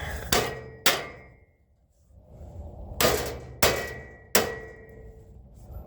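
A hammer beats on a broken metal trailer, giving five sharp, ringing metallic blows at uneven intervals, close and loud, with quiet gaps between them.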